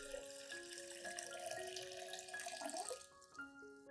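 Tap water runs steadily into a container as about 500 milliliters of clean water is added to dilute an aloe vera nutrient solution, the pouring easing off near the end.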